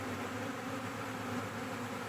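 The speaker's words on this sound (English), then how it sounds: "we know most of the bees are in these two boxes" A mega-swarm of honey bees at stacked hive boxes, heard as a dense, steady buzzing drone that holds without break and sits at a moderate distance.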